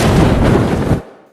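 A large explosion of spilled gas from a crashed gas container in a film, a loud broad roaring blast lasting about a second before cutting off abruptly to near silence.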